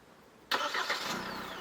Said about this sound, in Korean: 자, 이렇게 시동이 걸립니다.